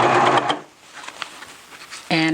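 A serger stitching a T-shirt seam runs in a loud mechanical burst, stops for over a second, then starts again at full speed.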